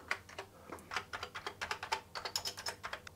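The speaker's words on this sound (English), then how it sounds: "I need to test all the keys to be sure. So here's the keyboard test." Rapid, uneven keystrokes on an Amiga 600 keyboard during a key test, a close run of light clicky taps with no voices.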